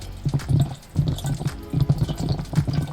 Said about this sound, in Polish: Normalnie bumbluje woda.